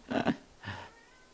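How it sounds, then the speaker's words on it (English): A house cat meows twice in quick succession, a short pair of close, fairly quiet calls with a brief gap between them and nothing else around. "Yes, meow, I know, I can hear you."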